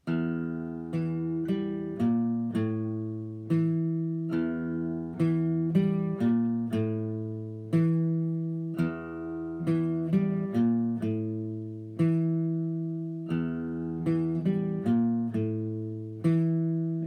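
A plucked guitar riff, a song intro, played slowly and cleanly, single notes and small chords ringing out in a steady repeating pattern, no voices.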